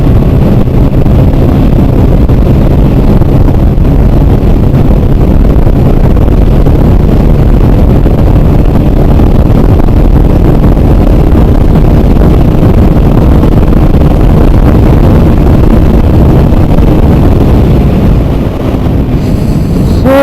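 A 2020 Hero Super Splendor BS6 motorcycle, stock and unmodified, runs flat out at top speed, its engine buried in a loud, constant rush of wind roar against the microphone throughout.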